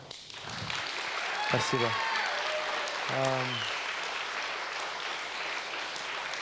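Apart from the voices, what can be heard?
applause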